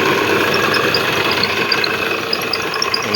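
A farm motor runs steadily close by with a constant mechanical hum and buzz and no change in level. Faint high chirps, likely insects or birds, sound over it.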